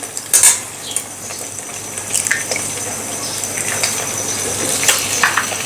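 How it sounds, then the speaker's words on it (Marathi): Beaten eggs being stirred into a scramble in a pan over a low gas flame, with a few clinks of the utensil against the pan early on, then soft scraping and a faint sizzle. "बारीक गॅसवरतीच आपल्याला ही अंडी छान अशी याची अशी भुर्जी करून घ्यायची आहे"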